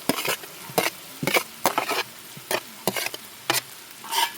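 Beans sizzling in a hot pan while being stirred, with rhythmic scraping strokes about twice a second over a constant frying hiss, close and clear with no talking.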